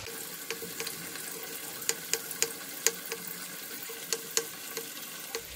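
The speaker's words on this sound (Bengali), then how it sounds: "এদিকে আমার আলুটাও এই যে হালকা লাল করে ভাজা হয়ে গেছে" Potatoes fry in oil in a pan, a soft steady sizzle with frequent sharp crackles and pops scattered across it, fairly quiet and without any talk.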